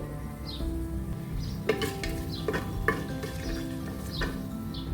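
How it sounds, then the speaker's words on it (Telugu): Whole garam masala spices, including bay leaf, stone flower, cardamom, star anise, cloves, cinnamon and marathi moggu, frying in hot oil for chicken biryani, a soft steady sizzle with a few clinks of a utensil against the pan. "ఆయిల్ వేడయ్యాక ఇప్పుడు ఇందులోకి బిర్యానీ ఆకు రాతి పువ్వు యాలకులు అనాస పువ్వు లవంగాలు చెక్క మరాఠీ మొగ్గ ఇవన్నీ హోల్ గరం మసాలాలు వేసుకొని ఫ్రై చేసుకోవాలి"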